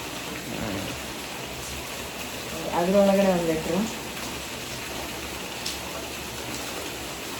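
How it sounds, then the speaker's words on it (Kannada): Heavy rain pours outside as a steady, close hiss filling the background, while someone speaks briefly over it partway through. "ಮಳೆ ಸಿಕ್ಕಾಪಟ್ಟೆ ಮಳೆ ಬರ್ತಿದೆ"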